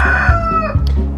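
A Partridge Chantecler rooster crows loudly and close by, one strained, drawn-out call.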